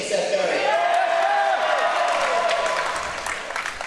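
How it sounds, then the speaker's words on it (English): An audience at a speedcubing competition in Melbourne cheers and claps, a loud crowd roar with whoops that holds steady, then slowly fades. "If you're from Melbourne, can you get cheer for Seth"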